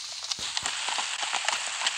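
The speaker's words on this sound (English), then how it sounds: "riding on horses" Horse hooves clip-clop in the video game Minecraft Story Mode, a quick irregular series of soft thuds over a steady hiss of background game sound, moderately loud and with no talk.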